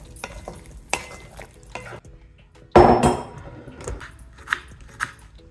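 Ground coriander-cumin and chilli powder get stirred in a frying pan: intermittent scrapes and clinks of a spoon against metal, with one loud clattering stir in the middle over a faint background sizzle.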